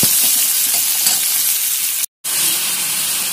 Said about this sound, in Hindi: इसको अच्छे से गोल्डन ब्राउन होने तक हमें फ्राई करना है।